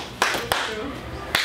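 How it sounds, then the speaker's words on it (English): A few sharp hand claps, close and crisp, spaced unevenly over a second and a half. "You gotta start with a hand clap"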